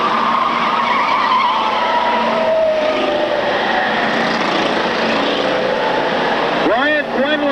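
Stock race cars roar through a turn in a continuous, loud engine drone that rises and falls in pitch as they pass, with commentary running over the noise and a brief whine near the end.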